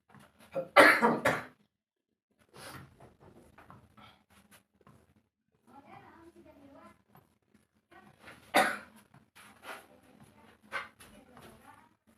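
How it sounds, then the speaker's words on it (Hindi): Two sharp, loud coughs several seconds apart, with quieter speech in between and after. "खांसी तेज हो गया था"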